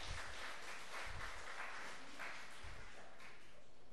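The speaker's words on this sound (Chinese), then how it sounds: "那我们掌声来欢迎我们的小诗班" Audience at a church service applauds to welcome a children's choir, a steady wash of clapping at moderate distance with a few low thumps beneath it, with no talking.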